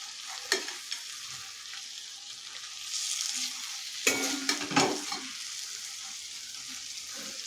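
Stuffed bell peppers frying in a pan and being turned over, a continuous soft sizzle with a few scraping and clinking stirs as the spatula flips them, close and quiet, without speech.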